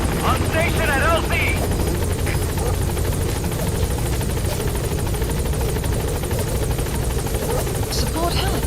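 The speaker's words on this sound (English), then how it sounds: "Support helicopter has arrived." Support helicopter arriving at a landing zone in Metal Gear Solid V: The Phantom Pain, a steady rotor drone throughout with game sound effects and a voice speaking over it.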